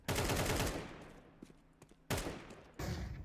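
Rapid bursts of rifle fire in a competitive esports shooter match, loud and close, with a dense volley at the start, a few lone taps in the middle and two more heavy bursts at the end.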